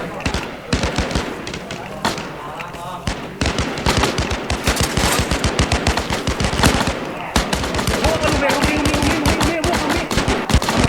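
Rapid gunfire fills a match of the shooting game Last Man Standing, with dense bursts of automatic shots and single cracks close up and continuous, while a player shouts excitedly over it.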